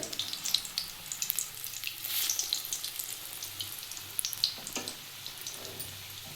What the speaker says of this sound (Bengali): এইভাবেই সবগুলো আস্তে আস্তে করে ভেজে নিতে হবে